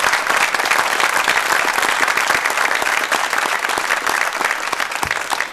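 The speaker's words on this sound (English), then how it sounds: "Another round of applause." Audience at a startup pitch night claps in a sustained, loud round of applause, dense and even for several seconds before easing slightly toward the end.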